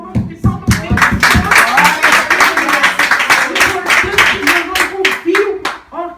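A church congregation claps along in rhythm during a hymn at a women's prayer service, sharp regular hand claps sounding loud and close and continuing steadily throughout, with voices singing or talking underneath.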